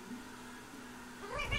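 A Persian cat gives a short, strained meow near the end of a fight with a Shih Tzu, close by but fairly faint over low background noise.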